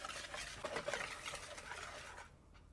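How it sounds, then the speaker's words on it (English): Vegan pancake batter made with buttermilk, whisked by hand in a bowl, gives a steady close scraping and swishing that runs for a few seconds before stopping, with no talk over it. "We'll give this a whisk until it's just combined."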